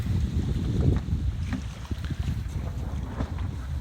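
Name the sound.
Maxi 95 sailboat sailing through water in wind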